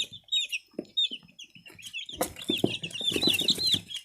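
Broody hens cluck softly while two dwarf Cochin chicks peep in high, rapid chirps, with some rustling and wing flutters toward the end.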